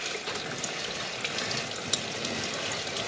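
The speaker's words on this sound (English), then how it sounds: "So we'll turn on the water, just kind of spray it off." Water sprays steadily from a hose onto an RV air conditioner filter as it is rinsed, a continuous close hiss with no talk over it.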